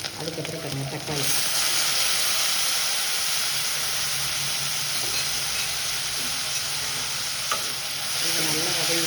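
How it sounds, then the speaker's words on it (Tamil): Curry leaves, onion and garlic sauté in a kadai with a loud, continuous hissing sizzle, broken near the start and end by scraping stirs, and a voice talks briefly underneath. "நல்ல கருவேப்பிலை, வெங்காயம், பூண்டு எல்லாம் வதங்கட்டும்."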